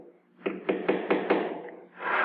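Leatherworking tools tapping on leather in a craft shop, five dull evenly spaced knocks close by, followed by a brief soft rush.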